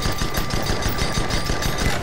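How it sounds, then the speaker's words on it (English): A Gatling gun fires a steady, continuous rapid-fire rattle in the airship combat game Guns of Icarus Online, close and loud, with no speech over it. "You better get on that Gatling gun."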